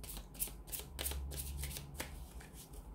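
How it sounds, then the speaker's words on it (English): A deck of angel oracle cards being shuffled by hand, a steady run of crisp riffling flutters and soft card slaps, close and fairly loud with no voice over it. "I'm just going to give these angel answers a shuffle and just see what messages are coming in."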